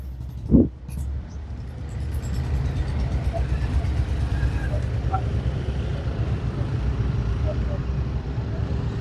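Motorcycles and cars of a youth protest rally roll past with a steady engine rumble close by. A sharp loud burst comes near the start, and voices are heard throughout.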